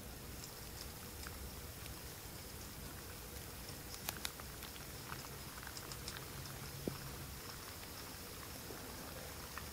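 Steady rain patters through a forest at a bushcraft shelter site, a dense even hiss with a few sharper drips and taps standing out, continuous and fairly soft throughout.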